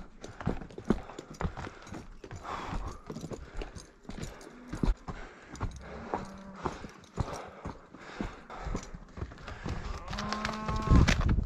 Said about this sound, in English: a few cows took a wrong turn and started climbing up in a bad spot.